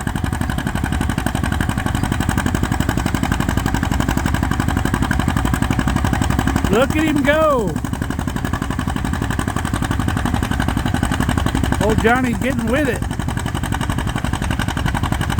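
A tractor engine drones loudly and steadily through a tractor pull, with two brief revs rising in pitch. Someone comments over it.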